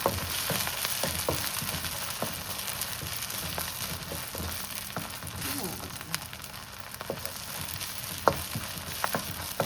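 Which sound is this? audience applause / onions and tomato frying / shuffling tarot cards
onions and tomato frying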